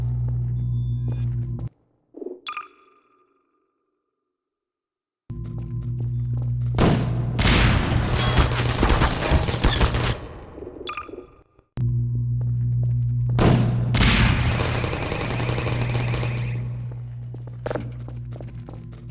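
Automated turret firing in Half-Life 2: Episode Two, with two loud sustained bursts of rapid gunfire over a steady low hum, separated by a short pause and a brief electronic chirp.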